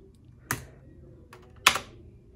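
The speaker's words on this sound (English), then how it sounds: "So I'm gonna have to hit the enter keys." Two sharp key presses on the Enter keys of two computer keyboards, a 2010 Mac Pro and an M1 Mac, struck about a second apart, close and fairly loud against a quiet background.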